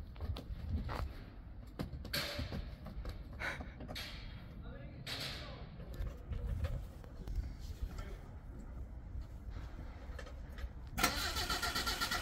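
A neglected FSO Polonez Caro 1.5 GLE, fitted with refitted spark plugs and a reconnected battery, cranks in repeated uneven bursts before the engine catches and runs near the end, with voices nearby.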